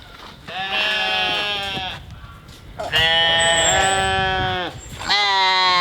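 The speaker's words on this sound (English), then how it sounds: "let's go feed the sheep" Loud, close sheep bleats, three long wavering calls in a row, separated by brief pauses with faint background noise.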